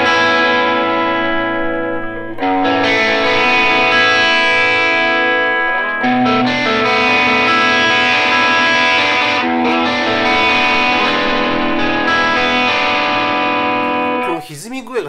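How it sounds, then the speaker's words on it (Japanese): Electric guitar played through a Vivie Callion high-end overdrive pedal, giving a thick, sustained distorted tone with ringing chords that hold steadily at high volume, briefly thinning near the start and cutting off at the end. "この歪み具合がすげえな"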